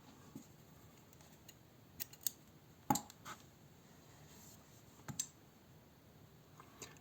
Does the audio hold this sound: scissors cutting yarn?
yes